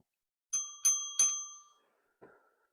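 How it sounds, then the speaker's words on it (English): Three quick rings of a bicycle bell in close succession, bright and clear, fading out, followed by a brief soft rustle. "ring the bell"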